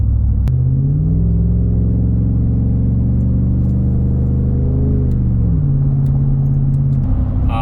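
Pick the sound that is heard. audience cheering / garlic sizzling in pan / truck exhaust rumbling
truck exhaust rumbling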